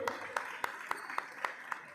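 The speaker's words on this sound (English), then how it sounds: "A round of applause for him." Audience at a basketball league finals clapping for a referee during introductions, faint, evenly spaced claps in a quick steady rhythm over a quiet murmur.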